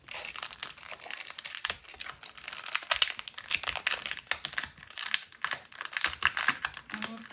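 Shiny packaging of a Pipsticks Pro Classic subscription pack being torn and opened, a busy stream of crinkling, rustling and crackling plastic up close with no talk over it.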